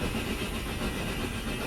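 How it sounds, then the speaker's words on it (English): Green Arrow's engine running on its own, a faint, steady rumble and hiss with no talk. "So now we're having to let the engine do its own thing."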